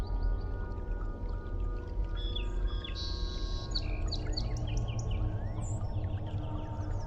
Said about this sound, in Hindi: कभी कभी खामोशी को चीरती हुई किसी पक्षी की आवाज सुनाई पड़ जाती थी।